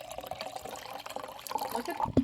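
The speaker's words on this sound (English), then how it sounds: "I'm literally pouring my Bomani into a wine glass." Drink poured from a bottle or can into a wine glass, a steady liquid trickle and splash filling the glass up close, with a brighter clink near the end.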